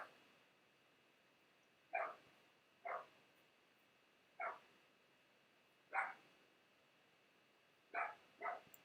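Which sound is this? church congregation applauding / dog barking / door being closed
dog barking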